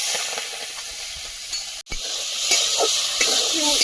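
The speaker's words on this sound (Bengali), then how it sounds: "চিংড়িটা ভেজে নেব" Continuous hissing sizzle of prawns frying in oil in a wok-style pan, with occasional clinks and scraping, the frying growing slightly louder toward the end.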